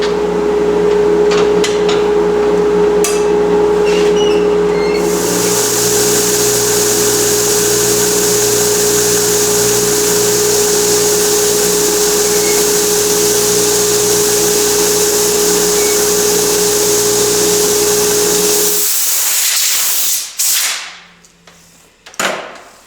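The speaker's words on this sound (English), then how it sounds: "Now I'm going to clean up all the 60 grit scratches with a 150 grit belt." A belt sander fitted with a 150 grit belt sands a wooden fretboard, a loud continuous whine and rasp of steady grinding that stops abruptly near the end and spins down.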